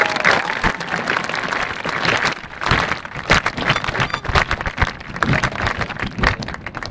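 An audience at a high school graduation ceremony applauds, producing dense, loud, sustained clapping from a large crowd throughout.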